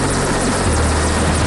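Helicopter flying over a flooded area during a rescue operation, its steady, loud rotor thump and engine roar continuous throughout, with no talk.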